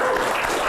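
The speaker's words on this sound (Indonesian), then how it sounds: "Tepuk tangan." A short burst of dense crowd applause at an Indonesian fishing podcast event, with continuous clapping that is loud and close.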